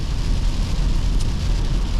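Steady rain drums on a Toyota 4Runner SR5 two-wheel-drive SUV during a sudden downpour, a dense continuous hiss over a low road and engine rumble heard from inside the cabin, with no talking.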